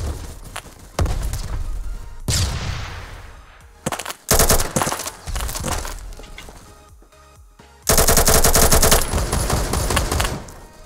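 Bursts of rapid automatic AK-74 rifle fire in the first-person shooter Phantom Forces, loud and close, with several separate volleys and sharp single cracks between them, no talking.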